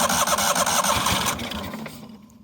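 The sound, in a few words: 1998 Yazoo YTKC22 three-wheel mower engine trying to start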